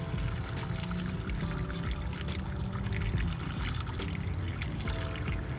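Water is poured steadily into the catalytic converter of a 2021 Suzuki Alto VXR 660cc, a soft continuous splashing gurgle, faint and unbroken for several seconds with no talk over it.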